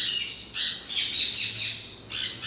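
Gouldian finches in a bird shop, giving repeated high, thin chirps and squawks in several bursts, close by and fairly clear over a quiet background with no talking.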